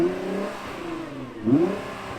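A 2020 Nissan GT-R Nismo engine revs twice, the first rev falling away and the second surging sharply before settling into a close, loud idle.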